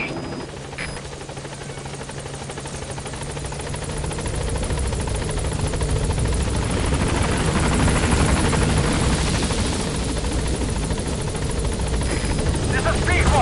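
The Pequod helicopter from Metal Gear Solid V, approaching a landing zone, gives a continuous rotor thrum and whine that swells louder as it draws near, with a voice speaking over it.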